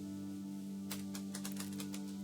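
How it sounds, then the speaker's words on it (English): Rapid typing on a computer keyboard, with bursts of light clicking keystrokes over a steady low electrical hum and no talk. "As Janice says, I'm typing sideways."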